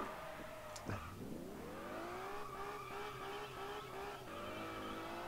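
A race car in the Test Drive Unlimited video game swings through a handbrake turn, tires squealing over a droning engine whose pitch dips and then climbs steadily as it powers away, loud and continuous.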